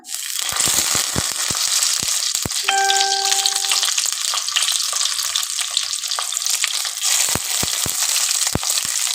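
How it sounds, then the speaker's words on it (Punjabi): Potato-stuffed green chillies frying in hot oil, with a steady loud sizzle and crackle throughout and scattered sharp pops and spatters close by. "ਬਸ ਆਇਲ ਦੇ ਵਿੱਚ ਆਪਾਂ ਨੇ ਰੱਖ ਕੇ ਹੁਣ ਇਹ ਫਰਾਈ ਕਰ ਲੈਣੀਆਂ"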